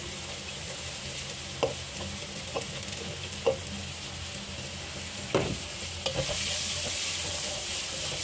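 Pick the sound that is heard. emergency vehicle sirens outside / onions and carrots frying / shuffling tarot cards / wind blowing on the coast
onions and carrots frying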